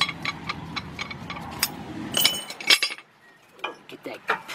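A steel C-clamp is picked up and handled during a rear brake job on a 2011 Nissan Quest, giving a run of close metallic clinks and taps that rest briefly before a few more knocks.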